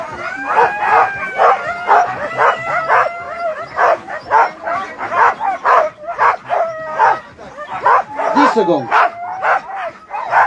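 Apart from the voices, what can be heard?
sled dogs barking and howling at race start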